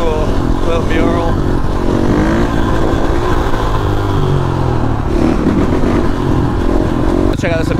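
A supermoto motorcycle engine drones loudly and continuously through a wheelie on city streets, its pitch wavering with throttle and wind buffeting throughout.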